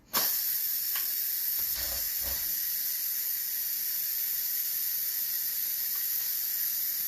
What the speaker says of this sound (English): I'm just going to release the pressure super, super, super quick.